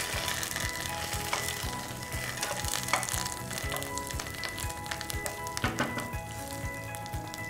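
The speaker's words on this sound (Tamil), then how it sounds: "சோம்பு கொஞ்சம் கருவேப்பிலை நம்ம வந்து தாளிச்சுக்க போகிறோம்." Fennel seeds and curry leaves crackling in hot oil, a dense, rain-like sizzle with popping spits throughout, close and continuous with no speech.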